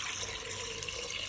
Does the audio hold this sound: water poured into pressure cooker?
yes